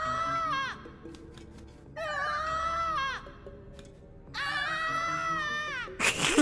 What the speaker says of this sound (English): have you heard him scream when he falls down the pits?